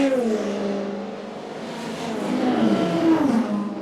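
Race cars at the 24 Hours of Le Mans send out a fairly loud engine drone whose pitch wavers up and down as the cars pass, heard alone for a few seconds.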